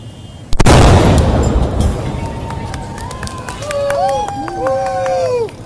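A sudden loud blast bursts on a Caracas street as a police motorcycle caravan passes, followed by a noisy crowd and revving engines as people run.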